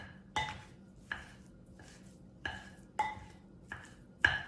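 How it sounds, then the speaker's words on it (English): A mix and chop tool breaks up ground meat with garlic in a pan for beef stroganoff, giving six sharp, evenly spaced scraping clinks close by, with quiet gaps between. "let me just break it up again with my mix and chop and get the garlic into the meat"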